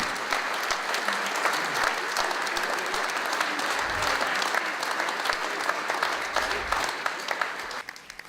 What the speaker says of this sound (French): Applaudissez-les, ils ont travaillé tout l'après-midi.